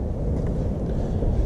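Wind buffeting the microphone on a farm in Hampshire, a continuous low rumbling roar with no pauses and no voices.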